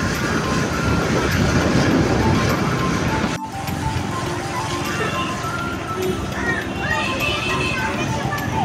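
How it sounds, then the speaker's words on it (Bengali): A tram pulls out of a tram depot in Shyambazar, a loud rumbling rail roll with faint squeals, heard amid street noise and nearby voices. "ট্রাম ডিপো থেকে ট্রাম বেরিয়েছে।"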